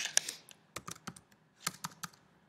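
Fingers type the word Glogster on a computer keyboard: close, crisp key clicks in quick irregular bursts with short pauses, loud and alone with no talking.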